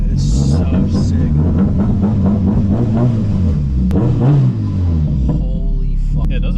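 Subaru FRS-style Toyota coupe fitted with a swapped Honda K24 engine, a steady close engine drone and rumble while driving, with a rise in revs around the middle and people chatting inside the cabin over it.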